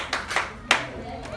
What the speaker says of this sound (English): Clap your hands for that.